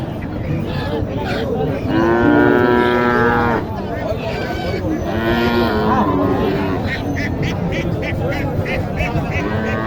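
Cattle low repeatedly at a livestock market in Naogaon, Bangladesh, where Sahiwal and other improved-breed cattle are sold. Long drawn-out moos rise over constant crowd chatter and market noise.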